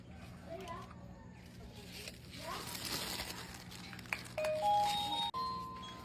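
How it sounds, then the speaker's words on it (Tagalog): A store door chime rings out near the end with two or three clear, bright tones over a backdrop of chatter and shuffling, while people talk through most of the moment. "kilabot naman store bell nyo"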